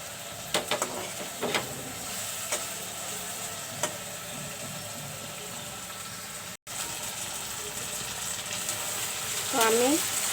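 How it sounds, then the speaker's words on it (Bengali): Spices frying in a pan with hilsa fish bones, a steady hiss of sizzling broken by a few sharp scrapes and taps of a spatula, close and fairly loud, no talk. "তো আমি মশলাগুলো কষিয়ে নিলাম, মাছের কাটা কুটাগুলো।"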